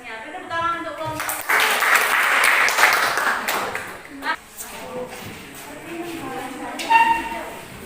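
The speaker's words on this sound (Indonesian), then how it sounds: "Beri tepuk tangan untuk kelompok." Classroom applause for a student group after their presentation, a burst of clapping lasting a few seconds amid tonal beeps and voices, with talk before and after.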